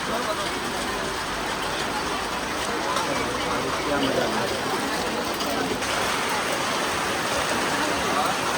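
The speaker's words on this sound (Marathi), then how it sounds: "पाऊस आला आहे. पाऊस मध्येच येतोय मध्येच जातोय." Rain falls steadily on and around an outdoor market stall selling handmade art and jewellery, a dense continuous hiss and patter close by without pause, with a voice talking over it.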